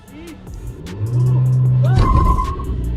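A VW Virtus GT launching in a drag race, a close car engine revving up then a sudden rising roar with a brief tire screech as it pulls away, loud and alone without talk.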